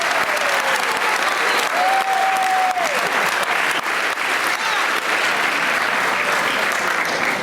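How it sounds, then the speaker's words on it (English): A show choir concert audience gives a sustained, loud round of applause, dense and steady throughout, with a brief whistle or cheer rising above the clapping. "Give yourselves a big round of applause"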